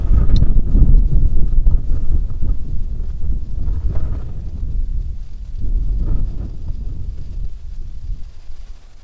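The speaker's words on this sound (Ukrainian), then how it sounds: "вітер шмотає вітрозахист" Steady low rumbling wind gusts flap a windscreen and buffet the microphone throughout, a loud muffled roar that surges and eases without pause.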